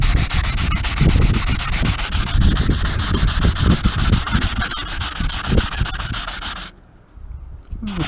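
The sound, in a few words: sanding a truck bumper with a sanding block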